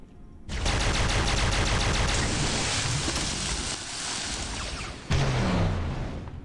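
Sustained rapid gunfire from a weapon in the Halo SPV3 game roars as a dense, unbroken barrage for several seconds. A sharp new burst cuts in near the end, loud and close.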